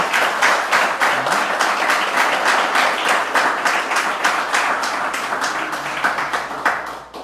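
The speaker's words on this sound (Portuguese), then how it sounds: "Vamos dar mais uma salva de palmas." A congregation gives a sustained round of clapping to welcome visitors at a church gathering, many hands beating steadily and loudly for several seconds before tapering off at the end.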